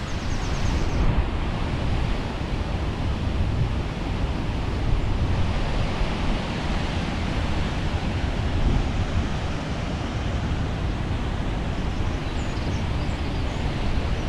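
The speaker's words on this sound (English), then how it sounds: "You can hear the water dropping down between the two sets of rocks." Water dropping between two sets of rocks at a waterfall, a steady broadband roar of falling water that holds unbroken throughout, loud and close, with wind buffeting the microphone.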